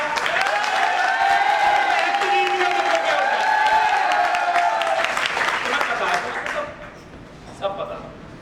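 Loud applause from a network marketing training audience in Meerut runs beneath a voice speaking or shouting over it, then the clapping fades away near the end.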